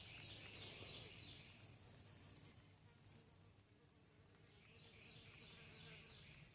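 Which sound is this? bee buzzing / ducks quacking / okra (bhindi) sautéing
bee buzzing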